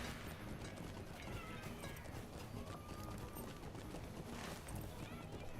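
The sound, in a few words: horse-like elk mount galloping, from a video game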